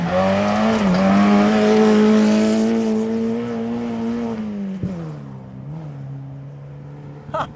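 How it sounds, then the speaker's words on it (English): A rally car at the 2012 Oregon Trail Rally, Stage 5, revs hard out of a corner with a clutch kick: a loud, steady engine drone that dips briefly, holds high revs, then eases off with a short sharp bump near the end. "Little clutch kick there on the exit to try to keep the revs up."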